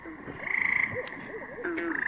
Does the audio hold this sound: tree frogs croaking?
yes